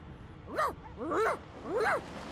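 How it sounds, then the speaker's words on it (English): Dog whining in the fantasy role-playing game Divinity: Original Sin 2: three rising-and-falling whimpers in a steady rhythm, close and moderately loud, with brief pauses between each cry. "The dog whines and continues pawing at its nose"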